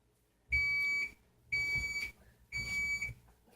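Three loud electronic beeps from an oven, each about half a second long, sounding at a steady pace with short gaps of quiet between them.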